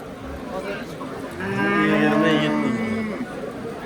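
A single long, loud milking cow moo rises and fades from nearby at a livestock bazaar, with quiet background noise before it.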